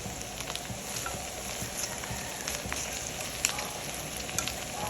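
Cabbage and pechay sizzle steadily in a hot pan while being stir-fried for pancit canton guisado, a continuous close frying hiss with small crackles and occasional clicks of stirring.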